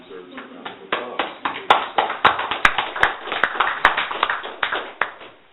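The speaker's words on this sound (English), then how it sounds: "I think it deserves a round of applause." A small group at a city council meeting claps for a presentation, a sparse round of individual hand claps heard close and distinct, building into an uneven rhythm and carrying on for several seconds.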